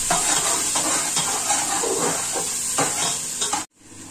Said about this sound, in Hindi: प्याज हमारे हल्के हल्के से फ्राई हो गए।